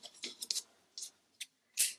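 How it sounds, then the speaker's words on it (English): Scissors snip through yarn while finishing a crocheted bear beanie for a baby, giving several short, crisp, close cuts spaced irregularly over about two seconds with quiet gaps between them. "chain 1 to secure the stitches, and cut the yarn"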